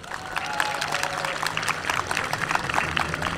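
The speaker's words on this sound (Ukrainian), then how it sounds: "Ваші оплески!" An audience at the opening of a regional Hutsul folk choreography charity project applauds, with dense, lively clapping and some cheering holding steady throughout.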